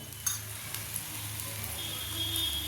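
Oil sizzling in a paddu pan while jowar flour paddu cook over medium heat, a steady close crackle with a faint clink near the start and no voices.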